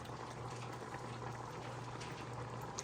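Broccoli cheddar soup simmering in a pot, a faint steady bubbling hiss with a low hum beneath and no voices.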